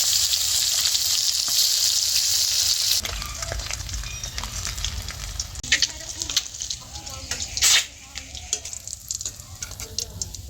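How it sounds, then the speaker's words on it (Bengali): Eggs fry in hot oil with a bright, steady sizzle, then crackling bursts and scraping stirs as more go into the pan. "আর যে কটা বাকি রয়েছে ও কটাও একসাথে দিয়ে সব ভেজে নেব"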